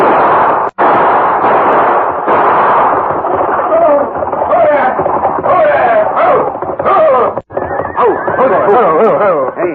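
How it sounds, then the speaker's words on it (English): Gunshots ring out in a 1950s Lone Ranger radio drama stagecoach holdup, two sharp cracks punctuating a loud, dense mix of shouting voices, horse neighs and clattering action throughout. "Come on and start shooting."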